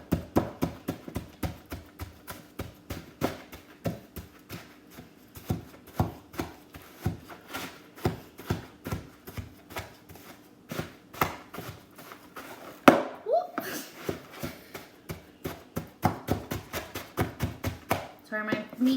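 Raw, partly frozen meatloaf mixture worked by hand in a bowl, heard as a long steady series of wet, squelching slaps and presses, close and rhythmic, with a brief louder knock partway through.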